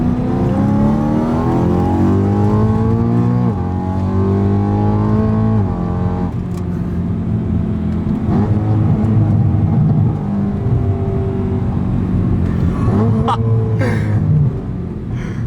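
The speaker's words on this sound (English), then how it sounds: "And the car just revs so much better." A tuned BMW M3 engine revs hard and repeatedly, its pitch climbing and falling in loud sweeps, with brief voices breaking in near the end.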